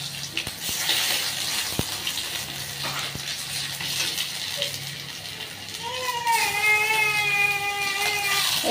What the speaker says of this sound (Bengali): এবার কড়াইতে তেলের মধ্যে সর্ষের তেলের মধ্যে অল্প একটু সাদা জিরে দিলাম, একটু তেজপাতা একটা, আর এই যে অল্প একটু পেঁয়াজ কুচি।